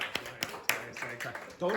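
A student claps her hands in a classroom, several sharp irregular claps ringing out close by while people talk over them.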